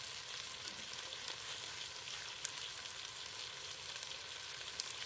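Pork steak sizzles and fries in a pan, a steady crackling hiss with small pops throughout, close and fairly quiet, no voices.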